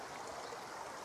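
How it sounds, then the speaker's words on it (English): Fast-flowing little river in woodland, a steady, fairly faint rushing and babbling of water with no voices. "This river is a nice little river. It's quite fast flowing."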